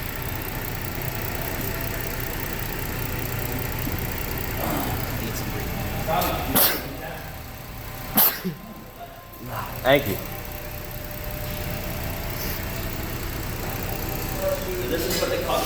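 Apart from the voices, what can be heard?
car engine idling with idle surge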